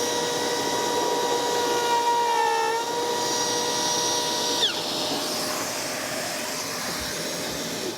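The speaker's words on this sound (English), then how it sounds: "So I have the router, and I'm just needing to notch in those two corners right there." A router notching two corners runs as a steady, loud motor whine with a sustained tonal hum and a slight pitch shift partway through, alone without talking.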